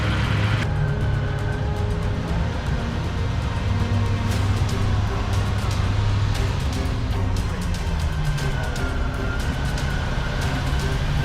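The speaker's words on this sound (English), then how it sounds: "This would also be the first time that I get to use my winch." A Jeep's winch hauls another Jeep back through snow on an overland camping trip, a steady loud mechanical drone and engine hum running continuously under faint tonal whine, close throughout.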